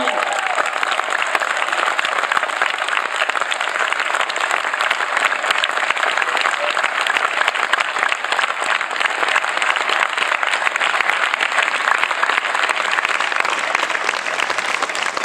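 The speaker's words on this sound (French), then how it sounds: "Dan Arbreuse, un grand applaudissement" A large audience at a choir's 20th-anniversary concert applauds steadily, a dense, loud wall of clapping that holds evenly for about fifteen seconds.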